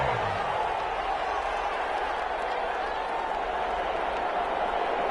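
A stadium crowd at an American football game roars in a dense, continuous wall of cheering that holds steady at a constant level for the full stretch, with no individual voices standing out.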